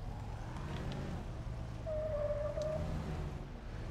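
A large dump truck rolls along in Dead Rising 3, its engine a continuous low rumble with a brief whining tone partway through, steady and fairly close.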